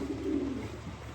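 Low, rounded cooing of pigeons, a steady throaty murmur close by with no talking.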